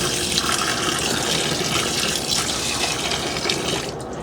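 Water pours steadily from the spout of a Hoover Spinarinse 3012A twin-tub, a continuous close splashing rush that thins slightly near the end.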